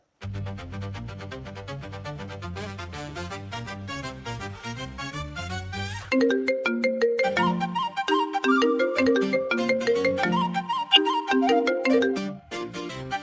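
A mobile phone ringtone plays continuously: a low repeating melodic pattern, then a brighter, higher chiming tune, steady and clear with no talking.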